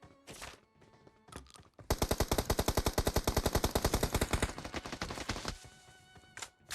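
Rapid automatic gunfire rattles in PUBG Mobile, a long, loud burst of evenly spaced shots after a few scattered single cracks, ending with a couple of isolated shots, with no talk over it.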